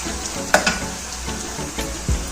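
Onions frying in a karahi as they start turning golden, a continuous sizzle with a couple of spoon scrapes and knocks against the pan, close by and without speech.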